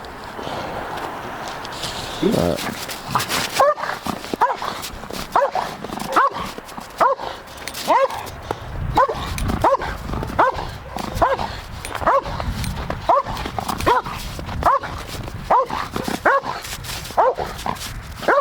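A protection dog barks repeatedly at a passive decoy during bite training, loud, close and steady, with rhythmic barks and some whimpers over about eighteen seconds and a little shuffling underneath.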